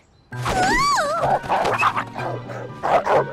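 A dog yips and barks in a short excited burst, one rising whine-like yelp followed by several sharp close barks.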